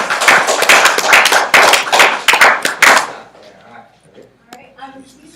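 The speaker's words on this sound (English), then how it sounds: "everybody give Eric a great round of applause" An audience gives a round of applause for Eric at an intro talk, a few seconds of loud, sharp, rapid clapping from a small group that stops abruptly, followed by quiet room sound.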